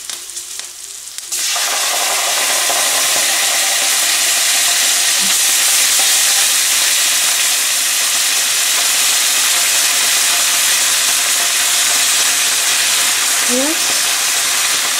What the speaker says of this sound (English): Now I am going to add yogurt,